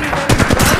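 Rapid automatic gunfire in Apex Legends, a loud close burst of several quick shots in uneven rhythm with sharp crack and thud.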